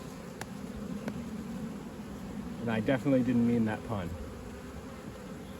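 Honey bees buzzing steadily on a hive frame holding larvae, a continuous close hum while someone talks briefly over it in the middle.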